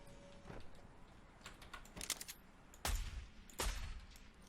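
Several sharp weapon shots ring out in a Fortnite match, brief bursts at irregular intervals, the loudest two near the end standing out over a busy game background.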